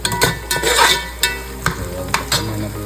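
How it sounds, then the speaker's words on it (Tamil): Cinnamon, cloves, pepper, bay leaf, star anise and onions frying for Ambur biryani, a soft sizzle under repeated scraping stirs of a spoon against the pan, close and intermittent. "பட்டை, லவங்கம், அதுக்கப்புறமா கொஞ்சம் பெப்பர், பிரியாணி இலை, அப்புறம் அன்னாச்சி பூ, வெங்காயம் இதெல்லாம் போட்டு கோல்டன் கலர் அளவுக்கு வறுக்கணும்."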